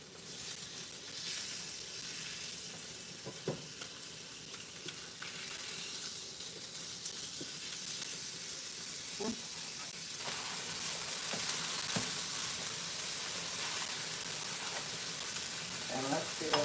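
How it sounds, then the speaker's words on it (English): Flipped salmon sizzles in a frying pan, a steady close hiss of frying that swells slightly later on, with occasional faint clicks of utensils and no talking. "And then just take the salmon, flip it over"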